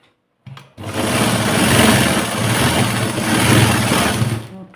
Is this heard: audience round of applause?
no